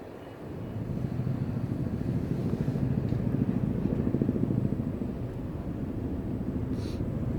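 A firefighting helicopter circles after scooping water during a forest fire drill near Andong, producing a loud, steady rotor and engine rumble that swells in the middle and holds on, with no voices.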